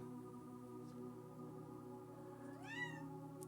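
A cat meows once with a rising then falling tone, clear and close over a steady low hum, with no speech.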